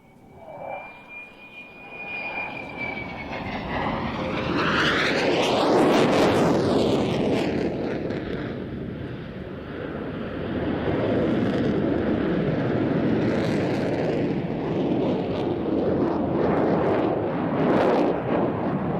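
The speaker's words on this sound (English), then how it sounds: "So enjoy some of the aircraft." Aircraft at an air display: a thin whine grows into a loud engine roar that sweeps past with a falling pitch, then a second sustained roar rumbles on, heard from outdoors with some wind buffeting.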